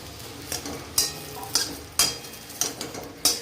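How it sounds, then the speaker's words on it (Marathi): Green chilies roasting in a dry, oil-free kadhai for a varan-bhat meal, with sharp metallic scrapes and taps of a spatula every half second or so over a faint background. "आपली कढाई गरम करायला ठेवली होती सर्वात पहिले आपल्याला तेल घालायचं नाही अशीच छान भाजून घ्यायची आधी मिरची भाजून घेते"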